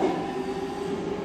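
Budapest M3 line metro train pulling out of a station, a steady loud rumble of wheels and motor with a sustained mid-pitched whine running throughout.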